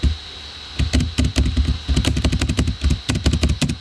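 Fast, irregular clicking on a button while playing a horse-riding game, with dozens of sharp, close clicks in rapid bursts and short pauses between them.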